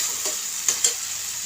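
Mashed papaya stirred in a hot pan, a steady sizzle with a couple of brief scraping knocks from the spoon, close and fairly loud.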